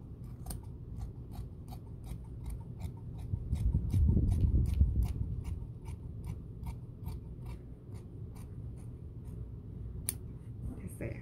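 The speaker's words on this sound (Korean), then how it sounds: "한번 잘라볼게요." Scissors cut fabric for a garment sleeve with a steady run of quick, close snips, about two per second, over soft rustling of cloth, with faint low room noise underneath.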